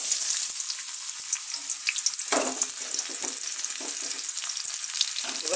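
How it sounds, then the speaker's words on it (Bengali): Chopped medium onions dropped into hot oil and frying, a steady close crackling sizzle throughout with a brief burst of louder spitting partway through. "এবার আমি এখানে দুটো মিডিয়াম সাইজের পেঁয়াজ কুচিয়ে রেখেছি, পেঁয়াজটা তেলের মধ্যে দিয়ে দেবো।"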